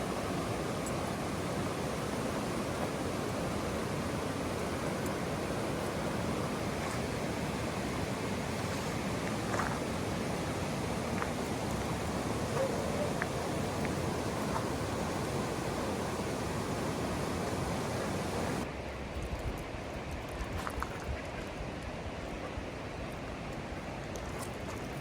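A flooding river choked with log jams in the Comox Valley, heard as a constant, loud broadband rush of water that stays unbroken from start to finish.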